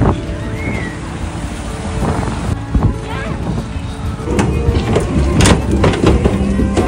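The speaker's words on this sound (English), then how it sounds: "and it's very windy." Strong wind buffets the microphone on Llandudno Pier in Wales, with constant low rumbling gusts and the sea nearby. The wind stays loud throughout and comes in uneven surges.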